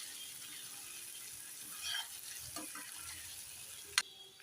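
Vegetables stir-fry in a pan over a low gas flame, giving a faint steady sizzle with a few soft stirring scrapes and one sharp clink near the end, with no talking.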